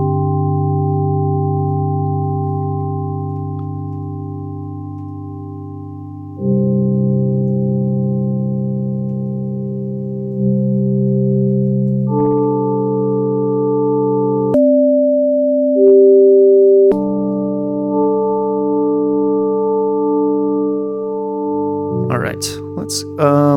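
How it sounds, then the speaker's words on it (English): A MOD Duo X pedalboard with a reverb effect added sustains steady electronic tones that shift pitch in blocks, ending in a brief flurry of higher notes. "I want to drop a reverb in between there."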